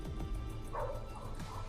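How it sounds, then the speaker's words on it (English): A dog barks and yips repeatedly in a room at home, fairly faint and mixed into steady background noise during a Mech Arena game stream. "our dog's going crazy."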